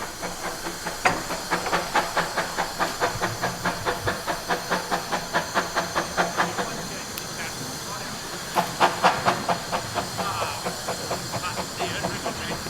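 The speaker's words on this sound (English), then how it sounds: "Oh, more steam." A steam locomotive at a railway shed during a steam gala, puffing in a steady rhythmic chuff of exhaust beats over a constant hiss of released steam, loud and close, with the beat briefly breaking and resuming later.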